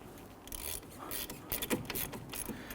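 Bolts on a front brake caliper of a 2011-2021 Jeep Grand Cherokee being spun out with a number 11 Allen key: close, rapid metallic clicking and ratcheting ticks in uneven bursts, with no talking.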